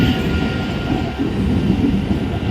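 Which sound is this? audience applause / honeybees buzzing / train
train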